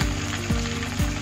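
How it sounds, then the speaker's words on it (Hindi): Cumin and turmeric powder fry in a pan for a cauliflower sabji, giving a steady, close sizzle with faint stirring scrapes and no voices. "अपने से अच्छे से फ्राई करती हूँ।"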